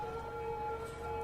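Ambulance sirens in the city-building game Cities: Skylines, a steady wailing tone holding level and fairly loud throughout the short moment, with a faint low traffic hum beneath.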